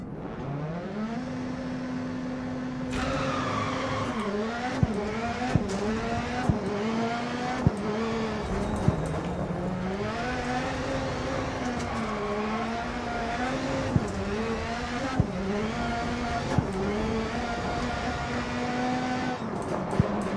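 Rally car in the Dirt Rally racing game, its engine revving and shifting gears continuously at close range, with rising and falling pitch and occasional sharp clicks and thuds over about twenty seconds.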